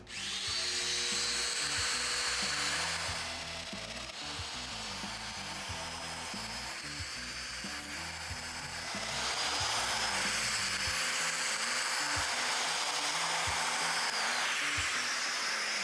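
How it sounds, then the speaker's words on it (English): A Festool Domino DF500 joiner with a 6 mm cutter plunges mortises into 18 mm plywood. A loud, close motor whine runs throughout, with the cutting noise swelling and easing as each plunge goes in and pulls out. "going to be using the Domino DF500 with a 6 millimeter cutter"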